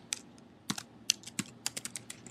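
Rapid keystrokes on a computer keyboard while entering SQL query code, a quick irregular patter of sharp clicks heard up close and alone, with no voices.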